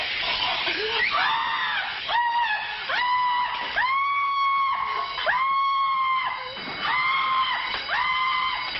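A woman screams repeatedly in long, piercing, wavering cries, several in a row with short gasps between them, loud and close.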